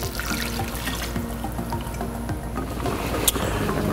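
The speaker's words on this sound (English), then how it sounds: "But a good fresh beef stock is delicious. So we'll pour that in." Fresh beef stock pours into a stew pot in a continuous close, gurgling splash, ending with a small clink.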